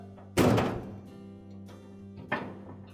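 A screw-type hose clamp on the inlet hose of a Whirlpool washer's injector sleeve is struck with a sharp rap, giving a loud, close thunk, with a quieter second knock about two seconds later.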